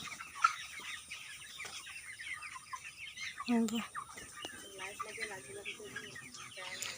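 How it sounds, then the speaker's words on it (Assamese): Many broiler chickens in a lit poultry house cluck and chirp continuously at close range, with scattered calls rising over a busy flock. "ঢেৰ ব্ৰইলাৰ"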